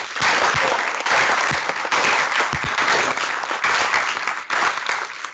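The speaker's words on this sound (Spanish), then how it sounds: "un aplauso para él por su trabajo en esta Gaceta." Sustained audience applause filling an auditorium at an agroecology congress, dense steady clapping from a large crowd lasting throughout without pause.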